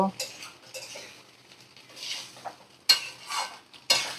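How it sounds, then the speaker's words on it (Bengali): Spicy rice stirred and mixed in a pan: irregular scraping and clinking strokes of a spoon against the pan, with light frying sizzle between them, close and alone. "ভালো করে নাড়াচাড়া করে আমি মিশিয়ে নেব"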